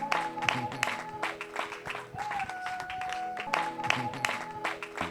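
A church congregation claps and cheers during a worship service, with steady, dense applause and crowd noise and a sustained tone underneath. Voices can be heard through the clapping.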